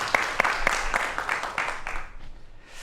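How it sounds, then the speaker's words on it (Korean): An audience at a Korean lecture on cybersecurity gives a round of applause, with scattered sharp claps that thin out and fade toward the end. "이 부분을 큰 박수로 청해 보도록 하겠습니다"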